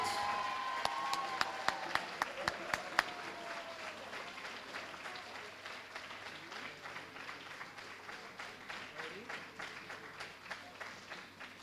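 An audience at a school band banquet applauds with sustained, dense clapping, with a few louder individual claps standing out near the start before it settles into a steady patter.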